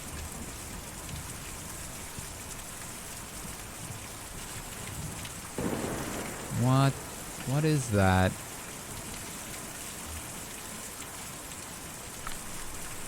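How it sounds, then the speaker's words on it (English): Steady heavy rain and a rumbling thunderstorm fill the scene in the video game Kentucky Route Zero, a constant dense wash throughout, with a voice briefly speaking over it partway through. "Difficult to see or even hear a storm like that"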